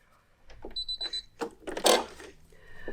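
A home sewing machine stitches fabric up to a corner in short whirring bursts, close and fairly quiet, with a brief beeping tone early on and a louder rustle of fabric being handled partway through.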